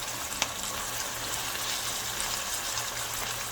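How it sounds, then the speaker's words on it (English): Ground beef for tacos frying in a pan, a steady, even sizzle that holds alone at moderate level from start to finish, with one faint click early on. "So I have the ground beef going."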